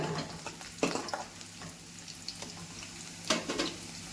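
Onions frying in hot oil until brown, a continuous close sizzle with occasional stirring scrapes and taps.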